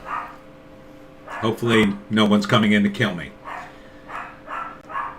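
A small dog named Little Joan barks repeatedly in short bursts at moderate distance, yapping continuously while someone talks over the noise during a home live stream.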